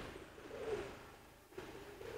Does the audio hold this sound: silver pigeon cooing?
yes